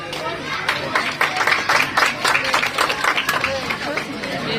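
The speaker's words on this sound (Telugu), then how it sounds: "క్లాప్స్ కొట్టాలి." Students clapping together at a school science event honoring C.V. Raman, a burst of many hands applauding at moderate distance, rhythmic and busy, with crowd chatter mixed in.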